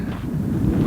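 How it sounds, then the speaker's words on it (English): Wind gusts across the microphone at a chilly September campsite in Vedauwoo, Wyoming, a short burst of low buffeting rumble with no voices. "It's windy and it's September, right?"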